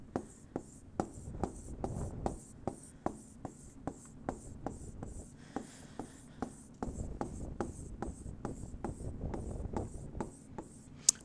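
Marker or chalk drawing on a board, sharp regular taps and squeaky strokes repeating rapidly like a dense series of small marks, close and clear with faint room noise and no talk.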